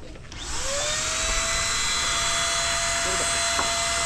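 An air compressor for spray painting runs steadily and loudly, starting up within the first half second and holding a continuous mechanical drone with a rising whine, with occasional faint knocks in the background.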